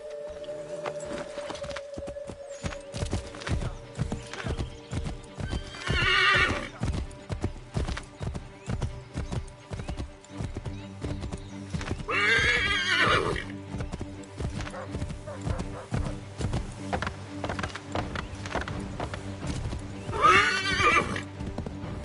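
Steady clip-clop of horse hooves at a trot with three loud whinnies spaced through it, part of the Assassin's Creed 3 Remastered soundtrack with music underneath.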